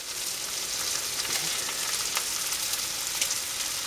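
Zucchini frying in a pan for a keto fried zucchini dish, giving a steady close crackling sizzle with dense spitting and popping throughout, no voices.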